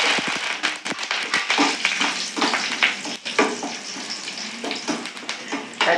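Dried red chillies and curry leaves crackle and spit in hot oil after popping mustard seeds, a loud, busy sizzle with sharp irregular pops and occasional stirring taps, close and without any voice.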